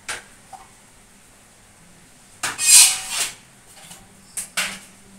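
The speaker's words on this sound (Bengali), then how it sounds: "এবার চা ছেঁকে নিচ্ছি" Freshly brewed tea being strained in a home kitchen: a few light clinks of metal and ceramic, then a short hissing pour, followed by more brief clatter, close by and without talking.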